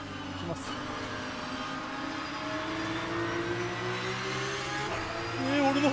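Porsche 992 GT3 Cup accelerating in a racing simulator, a continuous engine hum that swells and rises in pitch toward the end, with someone speaking over it.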